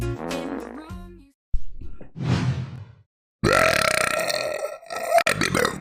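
Several loud, close burps follow one another with short gaps. They are deep and rumbling, and the last one is long and drawn out.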